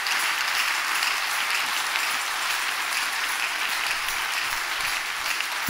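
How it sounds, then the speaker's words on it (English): Women in a church congregation clap together in sustained, dense applause that stays loud and even from start to finish, with no speech over it. "I'm pretty sure it's only the women that are clapping."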